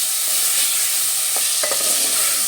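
Chicken pieces sear in hot oil in a pan for a chicken soup, giving a steady close sizzle and a few brief scraping stirs near the middle.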